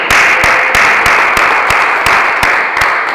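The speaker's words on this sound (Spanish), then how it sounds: "Vamos a un fuerte aplauso a Cristo." A church congregation applauds loudly at an evangelical service, producing a dense, steady wash of clapping with sharp accents recurring at a regular beat.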